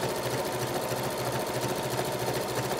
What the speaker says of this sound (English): I'm gonna start sewing along here.